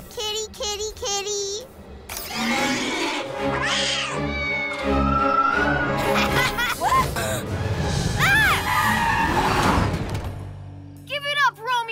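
A cartoon cat meowing and yowling among excited cartoon voices, laughter and music, with several drawn-out meows rising and falling over lively background sound.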